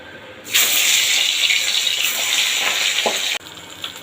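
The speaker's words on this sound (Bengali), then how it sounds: "এদিকে তেলটাও ভালোভাবে গরম হয়ে গেছে এর উপরে একে একে মাছগুলো দিয়ে আমি ভেজে নেব" Pabda fish dropped into hot oil, a sudden loud sizzling burst that holds steady for about three seconds and then cuts off, close and without voices.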